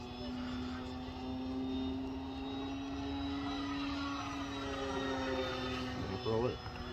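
An FMS Pitts 1.5 m radio-controlled model plane on its maiden flight, its electric motor giving a steady whining drone that holds moderately near, with a brief disturbance near the end.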